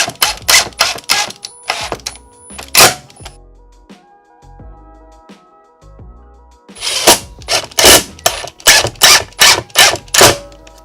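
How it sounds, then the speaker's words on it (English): Screwing a shower water valve into a 2x4 wood brace during a bathtub-to-shower conversion gives loud, rapid bursts of driving or rattling clatter, a cluster at the start and a longer run near the end, with a quieter gap between. "now we're going to go ahead and screw it in"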